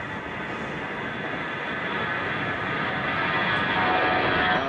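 A Lufthansa Boeing 747-8 airliner taxis at Chicago O'Hare, its engines giving a continuous broad roar that swells slightly louder, steady and fairly close with no talking.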